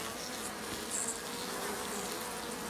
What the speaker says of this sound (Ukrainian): Бджоли ведуть себе спокійно.